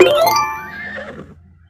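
A horse neighs in a Roblox zoo game, a single loud whinny that rises and then trails off over under two seconds, heard alone with no talk.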